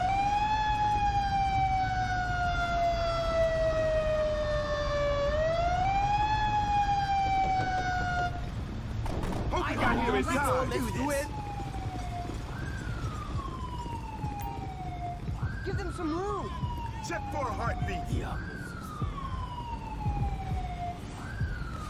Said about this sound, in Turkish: İtfaiyeciler. Arkasından ambulans da geliyor.